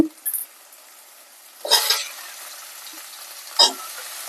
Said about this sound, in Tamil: இது கூடவே நான் வெஜிடபிள்ஸ் அப்படியே ஆட் பண்ணிக்கிறேன் ரெண்டுமே ஒன்னாவே வதங்கிடும் தக்காளி கூடவே